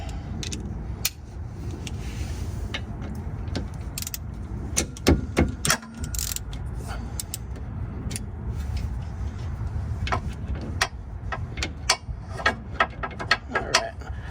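Socket wrench loosening 12mm bolts on the rear brakes of a Honda Pilot, a steady mechanical ratcheting with bursts of sharp clicks and metallic ticks, close and fairly loud over a low background rumble.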